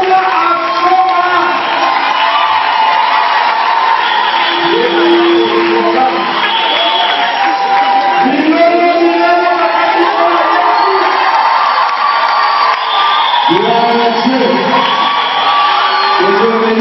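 A crowd at a concert cheers loudly and continuously, with shouts, whoops and high voices blending into a dense, steady roar throughout. There is no clear clapping.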